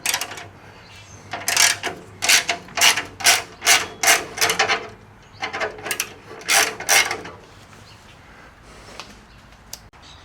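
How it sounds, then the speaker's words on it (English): A ratchet works the 30 mm crankshaft pulley bolt on a 1972 Volkswagen Super Beetle, giving bursts of sharp, evenly spaced clicks in two runs with a short pause between, close up and without talk. "I'm going to take this off and torque this."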